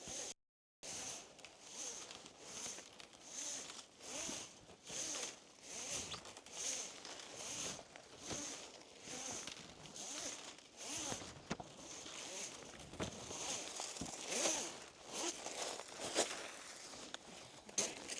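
A solar panel cable is pulled through conduit on a slate roof installation, making repeated rasping, zip-like drags in a steady rhythm of pulls, fairly close, with faint movement between strokes.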